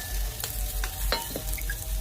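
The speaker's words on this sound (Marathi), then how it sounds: "ते सर्व मसाले आता जात आहेत तव्यामध्ये." Homemade spices fry in a pan on a wood-fired stove, giving a soft steady sizzle with low crackling and occasional stirring scrapes, close by and fairly quiet.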